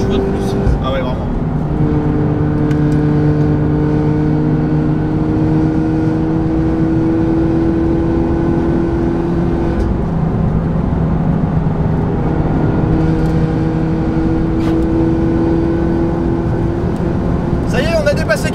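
A Peugeot 308 race car drives hard on the Nürburgring, its engine a loud, steady drone from inside the cabin with shifting pitch, while people talk over it.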